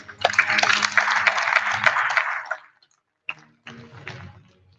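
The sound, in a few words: audience applause at an award ceremony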